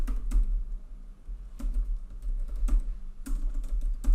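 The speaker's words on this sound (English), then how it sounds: "And then you would type it in here." Keys clatter on a computer keyboard as a domain name is typed into a web form, in quick close bursts of keystrokes separated by short pauses, with no talking.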